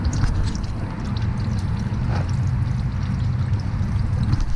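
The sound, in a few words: engine oil draining into a drain pan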